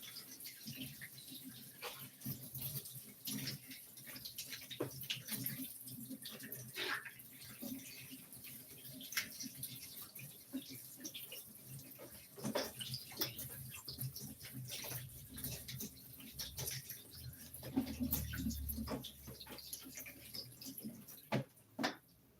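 Celery being washed in water at a kitchen sink or basin, with steady splashing and trickling close by, fairly quiet, running on without a break.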